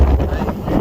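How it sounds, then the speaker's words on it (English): Strong gusty wind outdoors on a pheasant hunt, gusts of 20 to 25 miles an hour buffeting the microphone in a loud, brief low rumble. "It's windy, man. They got wind gusts."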